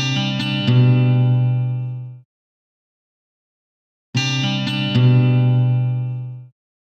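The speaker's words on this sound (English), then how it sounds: "Well done. You found the guitar." Guitar sample from the Lamb Chop Loves Music PC game: a short strummed phrase that rings out and decays, played twice with a gap of silence between, loud and close, with no voices.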